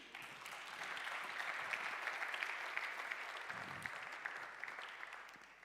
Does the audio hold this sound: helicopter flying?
no